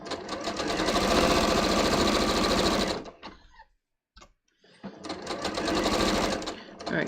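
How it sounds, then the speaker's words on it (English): A domestic sewing machine runs at a steady close whir while back tacking a bias-cut scoop neck top. It stitches in two bursts separated by a short quiet pause with a few small clicks. "so I'm just going to back tack here"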